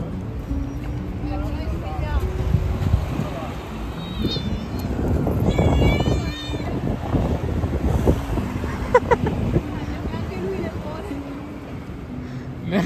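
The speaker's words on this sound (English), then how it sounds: "anche il gatto randagio vuole le patatine." A stray cat meows a few times outdoors in Morocco amid wind and traffic noise, with people talking nearby.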